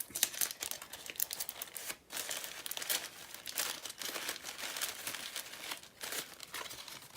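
Paper crinkles and rustles close up, with sharp crackles and short tearing sounds as tape is handled while a paper flower is being taped back together, continuous and fairly soft with no voices.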